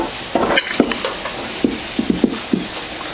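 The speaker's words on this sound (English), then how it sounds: "Get your spoon again. Kind of give it a little bit of a toss." Eggplant and shrimp being tossed with olive oil using a spoon, producing a series of light scraping clinks and soft wet stirring sounds at irregular intervals, close and moderately quiet.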